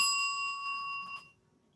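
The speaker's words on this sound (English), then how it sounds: "when time runs out, you will hear this bell" A single bright bell tone signals time running out at a candidates' forum, ringing clearly and fading away after about a second, leaving quiet.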